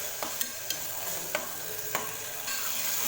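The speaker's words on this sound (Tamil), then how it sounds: "இப்போ தக்காளி நல்லா வதங்கட்டும் ஃப்ரெண்ட்ஸ்" Tomatoes sautéing in a pan for beef gravy, a constant bright sizzle with a few sharp clicks of a spoon stirring against the pan, no voices.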